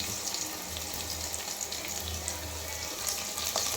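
Bay leaves, cloves and pepper frying in hot oil over a medium gas flame for Bidar-style chicken gravy, giving a steady close sizzle with a soft watery crackle throughout and no talking.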